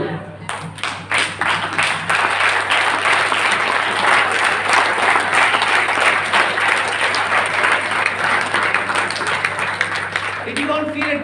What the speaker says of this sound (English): When you clap with such vigor to bring the roof down